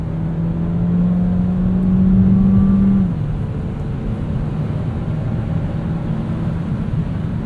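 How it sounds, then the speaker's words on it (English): A 2021 Kia Seltos S with a four-cylinder turbo engine, driving in sport mode, pulls with a steady droning engine tone that rises in pitch early on, then settles into a continuous hum with road noise. "Engine's a little bit drony in high RPMs"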